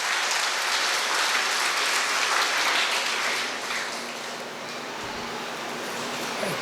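Sustained, dense applause from an audience at an academy Founder's Day function, honouring the chairman's birthday; a steady roar of clapping that eases slightly partway through and then carries on.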